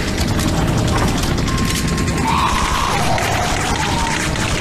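Helicopter in the Resident Evil 4 VR video game, a steady loud rotor and engine drone filling the whole stretch alongside mechanical clanks and a brief crash.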